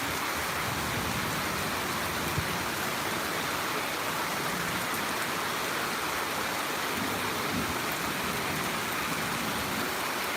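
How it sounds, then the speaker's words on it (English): Steady rain falls outdoors in a continuous, dense hiss of drops on surfaces, even and unbroken for about ten seconds, fairly loud and close with no voices or other distinct sounds. "It's raining and you can just hear the monkeys being like,"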